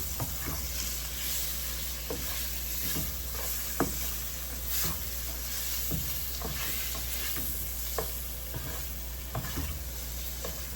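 Salmon pieces stirred together in a hot pan, with a steady sizzle and frying hiss throughout and several soft scraping knocks from the utensil as the pieces are turned, close and fairly loud.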